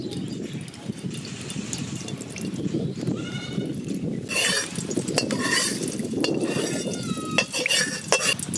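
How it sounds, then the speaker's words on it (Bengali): Onions fry in oil in a wok for biryani birista, a continuous bubbling hiss under intermittent metallic scraping and clinks of a spatula against the pan. "আমরা বেরেস্তার জন্য পেঁয়াজ ভেজে নেব।"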